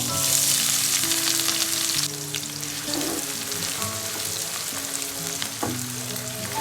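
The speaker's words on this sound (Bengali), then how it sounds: "মশলাগুলো একটু হালকা হাতে নেড়ে চেড়ে ভেজেই দিয়ে দিব পেঁয়াজ।" Spices and onion sizzle steadily in a hot pan for beef keema, a constant close frying hiss with occasional stirring scrapes and clinks, no talk over it.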